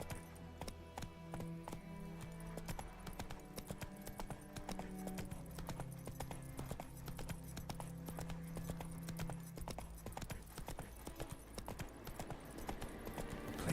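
Horse hooves galloping in The Witcher 3 video game, a fast, steady clip-clop rhythm that runs the whole time at moderate volume, with game ambience beneath.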